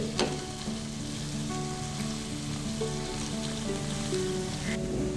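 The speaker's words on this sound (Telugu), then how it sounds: "సో ఇప్పుడు మన కాకరకాయలు ఫ్రై అయిపోయాయండి, ఆల్మోస్ట్ దగ్గరకు వచ్చేసింది" Bitter gourd pieces frying in a pan make a steady, even sizzle that runs throughout, close and moderately loud, with a faint clink early on and no voices.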